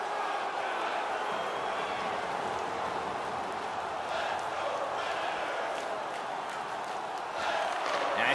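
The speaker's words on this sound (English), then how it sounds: "The crowd is just giving it to the officials about the no goal call" A large crowd at an NHL playoff game in Nashville's hockey arena jeers the officials over a no-goal call, a sustained roar of booing that fills the building, steady throughout and swelling slightly at the end.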